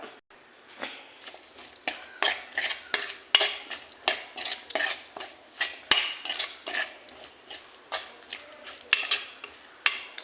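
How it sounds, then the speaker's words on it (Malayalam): Tomatoes sautéed in a pan while making a crab roast, with a steady run of sharp spoon-against-pan scrapes and clinks in quick rhythmic strokes over a faint sizzle, close and fairly loud, with no talking. "അപ്പം ഇതൊന്ന് നമുക്ക് വഴട്ടാം"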